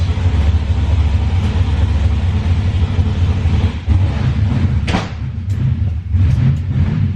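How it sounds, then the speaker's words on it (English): Engines rumble and rev loudly nearby, a dense low roar with a sharper surge partway through and no voices. "They're out there firing up cars."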